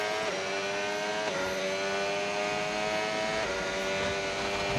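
A race car on intermediate tyres drives in the rain in a racing game set in Las Vegas. Its engine holds a steady high whine with brief dips and rises at gear shifts, under a soft hiss of spray.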